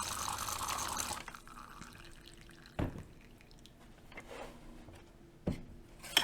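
Water gurgles and pumps through a hose while a De'Longhi espresso machine is bled, starting with a dense rushing burst, then settling into quieter trickling with a couple of sharp spurts, close by and with no voices.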